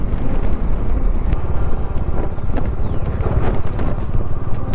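A motorbike engine drones close and loud while riding a rough trail near Marpha village in Nepal's Mustang region, with rumbling engine throb and scattered rattles from the uneven ground.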